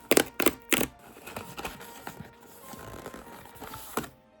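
Cardboard and plastic packaging on a Pokémon TCG display box is torn open with sharp ripping cracks at first, then followed by quieter crinkling and rustling handling at close range.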